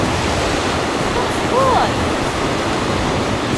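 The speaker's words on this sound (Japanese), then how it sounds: "波の音がもうすでに聞こえてると思うけど" Ocean waves break and wash on a beach at Itoshima, Fukuoka, a steady loud roar of surf with wind over the microphone, while a person briefly exclaims mid-clip.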